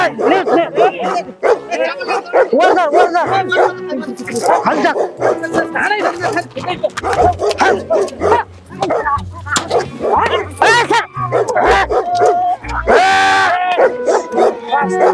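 A dog barks and yips repeatedly, close and loud, mixed in with steady talking from several people throughout.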